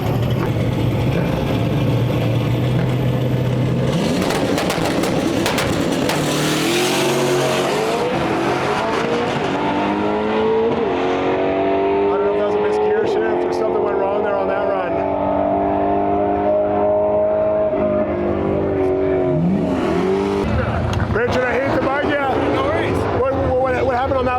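A stick-shift Pontiac GTO makes a drag racing pass at Bradenton, its engine loud and revving hard as it climbs through the gears with tire squeal, heard alongside a person talking.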